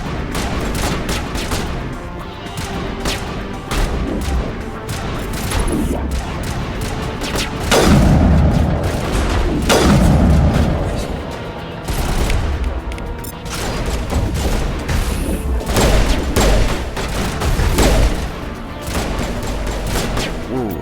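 Gunfire in Mass Effect 1 Legendary Edition: dense, continuous volleys of shots and booming impacts carry loudly through the whole stretch, with heavier bursts partway through.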